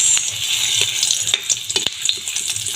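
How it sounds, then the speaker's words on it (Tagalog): Onions sizzle loudly as they drop into hot oil in a frying pan, a close, crackling hiss with frequent sharp pops and stirring clatter throughout. "mayroon na akong kawali na may mantika at mainit na siya. Lalagyan ko na ng sibuyas"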